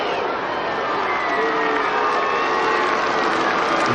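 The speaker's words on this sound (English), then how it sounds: "I think they're booing the decision." Football crowd at a 2000 AFL match between the Adelaide Crows and Fremantle Dockers booing an umpire's decision: a loud, dense stadium roar that holds steady from start to end.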